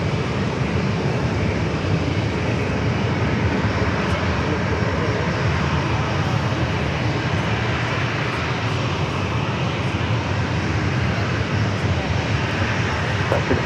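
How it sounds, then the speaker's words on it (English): Airbus A321neo jet holding on runway 27 at San Diego airport before departing for Dallas-Fort Worth; a steady, loud, broadband engine roar fills the whole stretch without letting up. "A321 Neil already lined up there on the 27."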